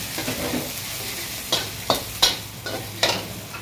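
Shallots and garlic sizzle steadily in hot oil in a wok, close up, while a utensil scrapes and taps the wok in several sharp strokes.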